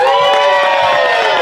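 An audience cheers for a brass band with a brief, loud burst of whooping voices and crowd noise, lasting only a moment.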